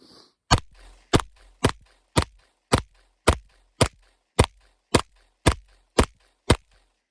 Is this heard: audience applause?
no